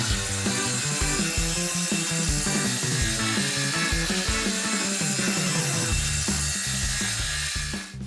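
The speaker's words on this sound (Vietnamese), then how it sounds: "Cưa gỗ." Wood is sawn by hand up close in quick repeated rasping strokes, a steady rhythmic scraping that continues for several seconds without speech.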